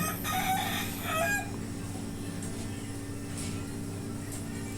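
Hens and a rooster on a small poultry farm with laying hens and chicks, a burst of clucking and calls in the first second or so, then a steady low hum and faint farmyard noise.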